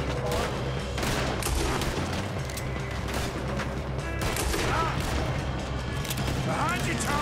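Gunfight in Red Dead Redemption 2, with dense, rapid bursts of gunfire and booming shots crackling continuously, mixed with game voices and background noise.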